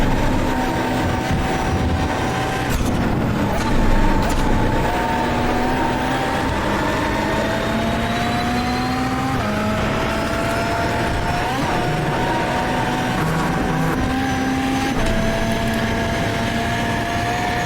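Simulated VW Beetle race cars at Oulton Park in iRacing, a steady engine drone with whining gear tones that climb and drop as the car shifts, loud and continuous throughout with no talk.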